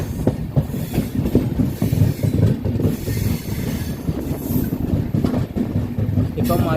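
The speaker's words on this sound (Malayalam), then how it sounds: "ഇപ്പം മജോഡ ജംഗ്ഷൻ റെയിൽവേ സ്റ്റേഷനിലേക്ക് വണ്ടി അടുത്തോണ്ടിരിക്കുകയാണ്." A RoRo freight train carrying lorries on its wagons runs along the rails near Majorda Junction, giving a continuous close rumble with rhythmic clatter and brief squeals, loud and unbroken.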